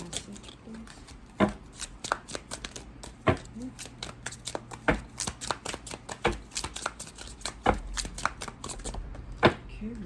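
A deck of cards being shuffled for a card reading, a quick irregular run of close riffling slaps and snaps, with a voice talking quietly underneath.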